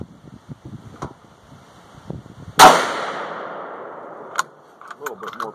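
One sharp, loud rifle shot from a .450 Bushmaster firing a 36.5 grain AA#9 handload cracks outdoors and rings off into a fading echo, with quiet voices before and after it.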